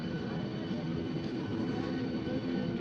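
A local train pulling out of Mirzapur station on the way to Prayagraj, a steady close rumble of wheels and carriage running continuously at even loudness.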